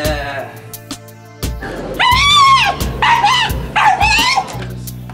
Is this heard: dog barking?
yes